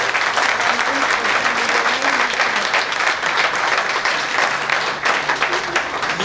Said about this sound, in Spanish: Den una fuerte aplauso al Espíritu Santo